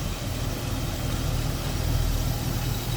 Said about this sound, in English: nice smooth idling engine